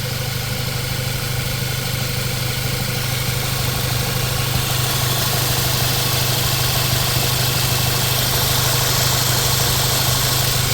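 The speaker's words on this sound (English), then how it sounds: "we're gonna start the car" A VW Jetta's engine idles continuously, a steady, loud mechanical drone with a low hum and even vibration throughout, no voices heard.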